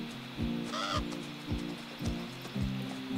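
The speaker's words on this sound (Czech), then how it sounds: "jestli ten Havran tež bude hrát nějakou hlavní roli v tomhle příběhu, protože ho tu slyšíme fakt často" A raven in the horror video game The Quarry gives a loud, rough caw, sounding once clearly amid a steady, rhythmic low ambient background.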